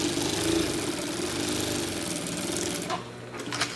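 Sewing machine stitching fabric with a plastic teflon presser foot: a close, rapid mechanical chatter running steadily for about three seconds before slowing and stopping with a few light clicks.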